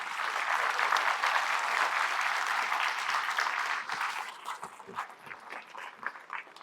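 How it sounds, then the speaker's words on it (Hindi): Audience at a medical entrance talk in Delhi applauding, a full burst of clapping that thins into scattered individual claps over the last few seconds. "ताली बजाओ फिर से"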